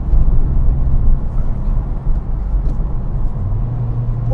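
A Honda Civic Type-R FK8 in sport mode drives with a steady, loud low engine drone and road rumble from inside the cabin, the note shifting slightly partway through as the revs change.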